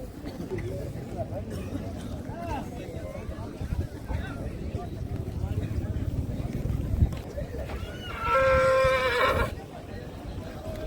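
A Sindhi-breed racehorse named Lalit whinnies loudly for about a second, rising clearly above steady crowd and outdoor noise while someone talks throughout.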